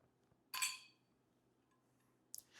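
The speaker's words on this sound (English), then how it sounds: "I'm going to go ahead and put 3 ice cubes in here." Three ice cubes dropped into a container for a shaken cocktail made at home without bar tools: a bright clinking clatter, a quiet pause, then a couple of quick lighter clinks near the end, close and otherwise quiet.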